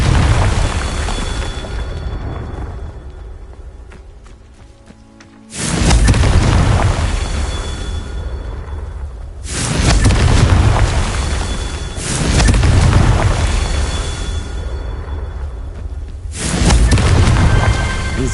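Confringo spell blasts in the Hogwarts Legacy video game, several heavy booming explosions, each a sudden loud burst followed by a long rumbling decay, spaced a few seconds apart.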